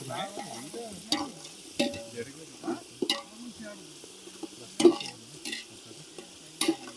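Masala for a village-style mutton curry fries in a pan as it is stirred, a low sizzle punctuated by repeated scraping and knocking strokes, with faint voices in the background.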